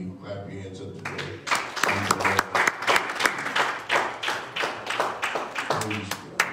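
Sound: congregation clapping hands in church

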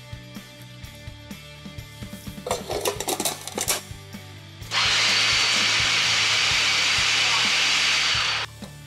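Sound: food processor chopping sausage and peppers

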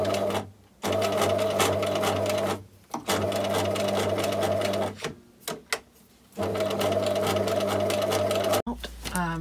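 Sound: sewing machine stitching binding on tweed jacket

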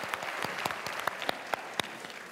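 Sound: audience applause for a dog on stage

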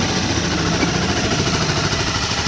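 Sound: small motorcycle engine idling

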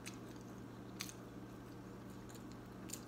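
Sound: eating grilled banana

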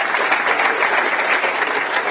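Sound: audience applause

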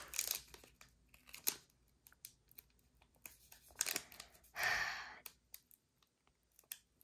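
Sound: tearing open a foil trading card pack

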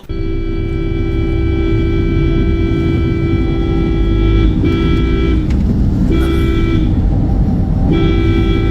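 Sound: vehicle horns honking in traffic

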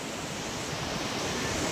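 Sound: sea waves

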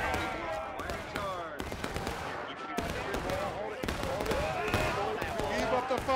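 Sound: musket gunfire in the video game War of Rights

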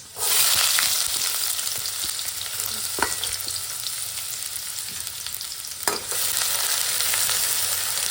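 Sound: garlic and onion frying in a pan

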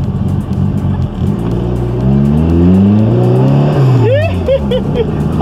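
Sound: turbo whistle of a Hofstetter sports car driving

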